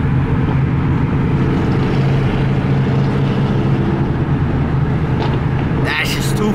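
A loud 800hp cammed Ford Mustang GT500 rumbles nearby with a deep, choppy idle and a steady throbbing low roar, voices faintly mixed in.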